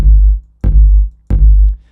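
An Edison harmonic filter effect in a music production tool turns input into three ringing clicks: each is a sharp loud transient followed by a resonant low tone that rings for about half a second, and they come at even intervals.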